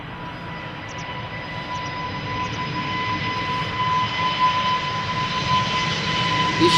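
A Lufthansa Airbus A380 at Amsterdam Schiphol gives a steady jet engine roar with a clear sustained whine, the rumble growing gradually louder over several seconds as the aircraft nears.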